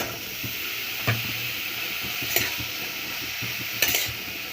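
Thin eggplant strips fry in spiced oil while being turned, a steady hiss broken by a few distinct scrapes and knocks of the spatula against the pan, close and fairly loud.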